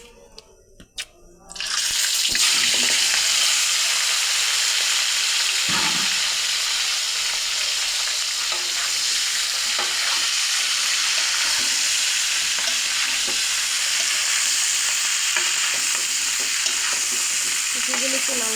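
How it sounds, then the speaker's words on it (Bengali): Cauliflower pieces hit oil left over from frying fish and burst into a loud, steady sizzle that continues strongly, with occasional stirring clatter. "মাছের তেলটার মধ্যে আমি একটু কপিগুলো ভেজে নিচ্ছি।"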